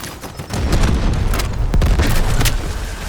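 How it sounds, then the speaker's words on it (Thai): Explosions and gunfire in the video game Delta Force: Hawk Ops, a heavy booming blast with rapid bursts of shots crackling over a deep rumble, loud and close throughout the few seconds. "ระเบิดแล้ววะยิงระเบิดว่ะ"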